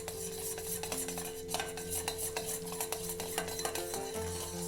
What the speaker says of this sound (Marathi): तूप घातल्याच्या नंतर बराबर भराभर ढवळणं आवश्यक आहे